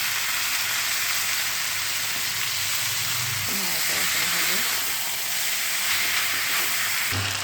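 Food stir-fried with salt and pepper over a high flame sizzles and hisses without a break, and a utensil scrapes and stirs through it partway.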